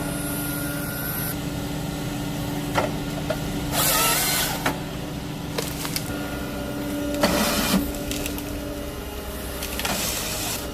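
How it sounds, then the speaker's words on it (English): An Alat Kupas Kayu wood peeling machine runs with a steady mechanical hum and whine, broken by several short, louder bursts of cutting noise spaced irregularly across the run. "Whether the wood is hard or soft, the machine handles it with ease"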